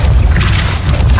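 Depulso spell cast in Hogwarts Legacy, a loud, close booming blast with heavy low rumble and a brief whooshing burst, sustained for about a second.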